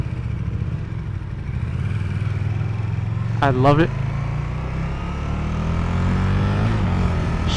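A 2015 KTM 1290 Super Duke R engine hums steadily and then rises in pitch as it accelerates in street mode, heard close under a rider talking over wind noise.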